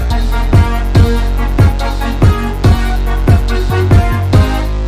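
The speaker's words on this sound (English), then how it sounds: "This is a synth sound from Repro 1." Repro-1 synth playing a pattern alongside 808s in a hip-hop production, with regular punchy hits repeating about every 0.6 seconds over a sustained tonal bed, loud and upfront with no talking.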